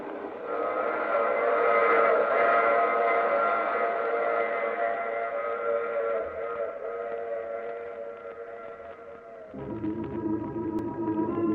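A train rumbles past for several seconds with a sustained whistle tone, then the sound shifts abruptly to a lower, steadier mechanical drone, in a 1950s old-time radio drama.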